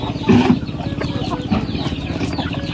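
Chickens at a fishpond clucking busily while grain is tossed to them, steady overlapping clucks from a nearby flock with a couple of louder calls standing out early on.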